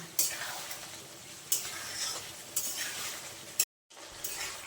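Potol posto, pointed gourd in poppy seed paste, is stirred in a pan over a soft frying sizzle, with several sharp scraping strokes at roughly one-second intervals before a short drop to silence.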